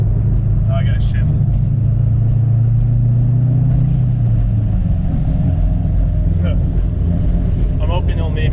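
A Subaru Forester XT's engine rumbles loud and close during a gear shift, the low drone holding steady and then dropping away midway, while people talk over it.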